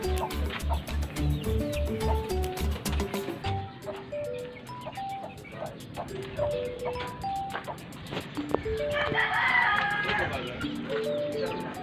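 Chickens cluck and a rooster crows at a backyard poultry pen on a plot of land in a provincial setting, the birds scattered through a busy outdoor scene with music and talking.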